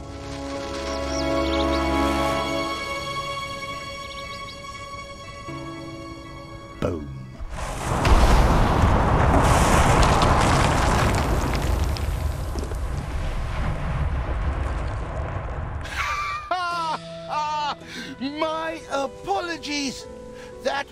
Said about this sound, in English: The charges have been primed. The perimeter clear. We are ready to detonate.